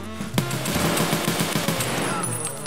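Gunfire in the shooter game Escape from Tarkov: one sharp, loud shot cracks out, then a run of quicker, softer reports follows in a rough rhythm, with no one talking over it.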